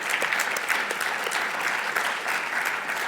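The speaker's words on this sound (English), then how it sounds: "let's give a round of applause to them." An audience at a talk gives a round of applause, dense steady clapping from many hands, close and sustained throughout.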